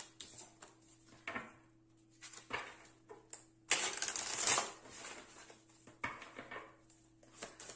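Tarot cards are shuffled for a reading: a series of faint, papery riffles and flutters come in irregular bursts, with one longer, fuller shuffle in the middle, close and quiet with no speech.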